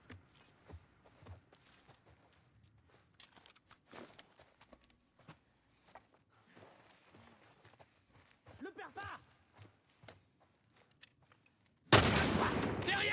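Gunfire in The Last of Us comes as scattered faint shots and bursts with footsteps and quiet movement, before a sudden loud blast of noise at the end; people talk over the game sounds.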